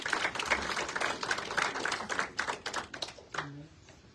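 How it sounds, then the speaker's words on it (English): Audience at a school town hall meeting clapping, a moderate patter of many hands with scattered sharp claps that thins out toward the end as a voice begins. "Jason and Bernie, can we give them a round of applause?"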